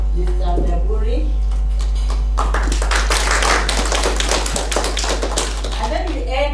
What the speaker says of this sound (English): give a big clap to the TSC representative, Mr. Ndaburi